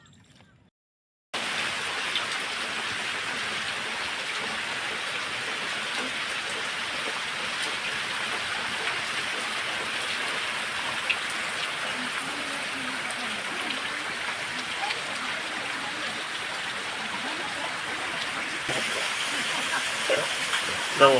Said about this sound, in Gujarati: વરસાદ તૂટી પડ્યો